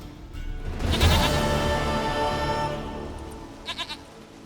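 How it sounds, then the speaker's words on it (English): A goat in The Witcher 3 video game gives a long, wavering bleat that rises and fades over several seconds, followed by a few short, quick bleats near the end, heard alone and close. "Goat of mine, dearest, sweetest goat."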